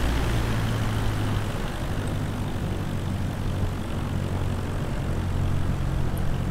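A small propeller plane's engine drones steadily in a flight simulator game during a windy landing approach in Japan, a loud, even hum that runs alone throughout.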